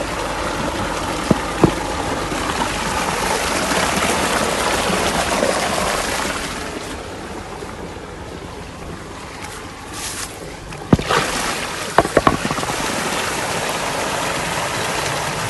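Water gushing steadily from a solar-powered, motor-driven pump outlet into a farm field channel, a loud continuous rushing wash with a few sharp knocks and clicks near the end.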